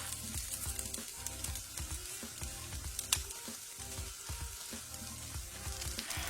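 Korean vegetable pancakes frying in a pan, a dense close-up sizzle and crackle of hot oil with scattered pops running steadily throughout, no talking.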